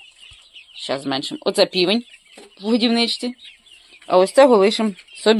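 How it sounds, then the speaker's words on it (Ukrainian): Rooster in a feeder inside a chicken coop, giving loud close clucks and calls in short bursts, with a person talking over them. "Оце півень в годівничці."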